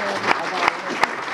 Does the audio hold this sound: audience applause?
yes